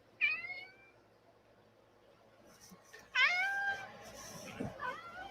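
A house cat meows twice in an animal rescue setting, a short call and then a longer, louder drawn-out meow a few seconds later, close by against quiet room noise.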